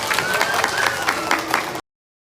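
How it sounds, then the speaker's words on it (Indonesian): Audience applause at a Maulid gathering, a steady burst of clapping from a crowd that holds evenly for under two seconds and then cuts off abruptly. "Beri tepuk tangan dulu kepada Mahesa."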